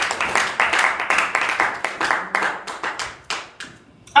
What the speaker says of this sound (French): Acclame ton Dieu, il est merveilleux.